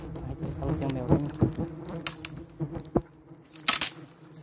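Inxú wasps buzz and thump against a phone held near their nest, with irregular soft taps and bursts of buzzing, close and fairly quiet.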